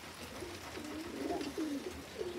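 A pigeon coos close by, a few soft rolling low calls repeating over a faint background hum.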